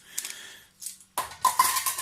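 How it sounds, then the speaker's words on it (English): Forks and knives from a bugout bag cutlery set are handled, bright metallic clinks coming in a few quick bursts with brief pauses, close and clear, with no voices. "These here are obviously forks and knives that go with the cutlery."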